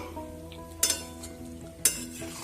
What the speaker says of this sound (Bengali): পকোড়া আলুগুলো ভালো করে মিশিয়ে নেব।